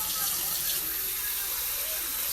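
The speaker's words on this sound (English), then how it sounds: "I'm going to add the hot water, put it on the stove" Hot water for tea pours in a steady, hissing splash that runs unbroken for a couple of seconds, close and moderately loud.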